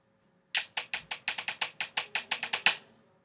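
Crisp snare drum playing a steady stream of sixteenth notes and triplets, about fifteen sharp, close strokes in quick succession, with no voices.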